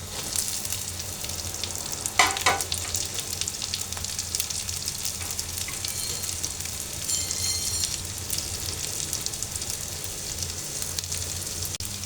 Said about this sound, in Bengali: এটা রান্না করা মাংস ছিল, আমি একটু ফ্রাই করে নিচ্ছি।